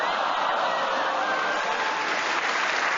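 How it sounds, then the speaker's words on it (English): Studio audience on a panel game show breaks into sustained applause, a steady dense wash of clapping that holds at full strength throughout without any voices breaking through. "the audience round of applause showed how much they appreciate it"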